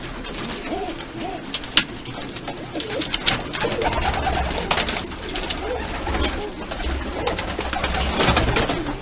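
Shortface pigeons coo steadily in a breeding loft, several birds murmuring in overlapping soft rounded calls close to the microphone, with wing rustles and a low background hum throughout.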